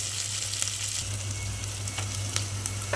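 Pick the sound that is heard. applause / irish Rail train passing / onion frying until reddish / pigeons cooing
onion frying until reddish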